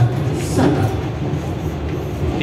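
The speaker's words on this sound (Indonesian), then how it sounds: "Sesaat kereta api akan melintas terowongan Sasaksaan." A passenger train nears the Sasaksaan tunnel, a loud rumbling rolling drone with faint rhythmic rail clatter, heard from inside the carriage and steady throughout.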